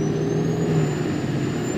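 A Ford F350 dually pickup's turbo diesel runs in a steady, loud, close drone with a thin turbo whine riding above the engine rumble, no voices over it.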